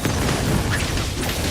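An explosion attack in Wuthering Waves booms close and loud, a dense rumbling burst that fills the moment with no talking over it.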